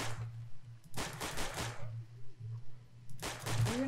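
Gunfire in the Left 4 Dead video game during a headshots-only campaign: a quick burst of several shots, a pause, then another burst, over a low steady hum.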